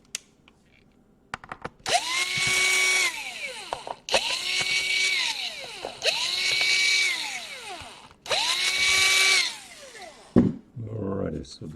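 Power screwdriver removing screws from an HP EliteBook 850 laptop: four separate whirring bursts of about a second each, every one rising and falling in pitch, close and clear with short pauses between them.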